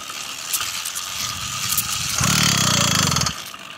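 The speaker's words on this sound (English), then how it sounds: "not only did it not start, it is knocking hard" A Phantom 85 engine fitted with an MS-460 piston turns over and runs roughly, with a harsh metallic knocking that grows louder for about a second before cutting off.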